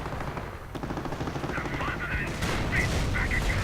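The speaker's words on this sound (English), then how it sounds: "Mortars firing away, could actually end up hitting it" Mortar fire and scattered gunfire from a World War II real-time strategy battle, a dense run of repeated dull booms and crackling shots, fairly loud and continuous throughout.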